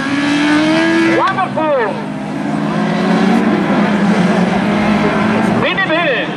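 Race cars run laps on a circuit during the first round of a championship, their engines whining and droning steadily with rising and falling pitch as they pass, under continuous excited commentary.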